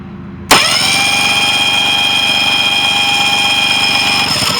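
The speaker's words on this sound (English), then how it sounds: "we're going to turn it over with the remote starter switch" A 2004 Yamaha 90 hp outboard with a no-spark fault is cranked by a remote starter switch, a sudden onset followed by a steady, even whirring drone that holds loud and close for several seconds.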